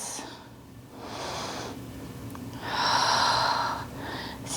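Slow breaths drawn in and pushed out during a beginner aerial yoga class in a hammock, two long airy exhalations rising and easing, close and soft with no talk.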